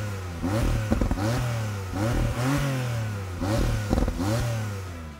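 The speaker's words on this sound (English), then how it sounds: "It sounds absolutely great, and especially when you're revving it" Twin-turbo flat engine of a 2019 Porsche 911 Carrera S revving repeatedly, several sharp rising blips from a steady idle, close and loud, with no talking.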